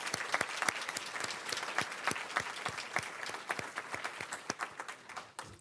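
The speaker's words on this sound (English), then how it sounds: "I think we want to give our panelists from this last panel, and actually all of our panelists, and all of our speakers today, a really rousing round of applause" Audience applause for conference panelists and speakers at a community engaged research event, steady clapping from a moderate-sized crowd with sharp individual claps standing out, sustained throughout before tapering slightly at the end.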